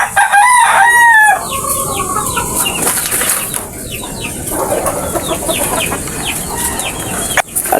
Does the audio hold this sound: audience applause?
no